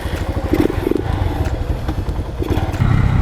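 A Lifan KP Mini 150cc motorcycle fitted with an aftermarket intake and a 34-tooth sprocket riding off, its close engine pulsing and thumping in a steady throbbing rhythm that grows louder near the end.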